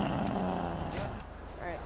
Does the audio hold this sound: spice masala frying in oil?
no